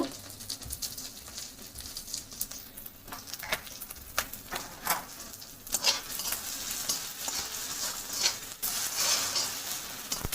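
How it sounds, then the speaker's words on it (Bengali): Food fries and is stirred in a pan, a steady quiet sizzle broken by scraping stirs and clinks, close by with no talk. "একটু লাল লাল করে ভেজে নেব।"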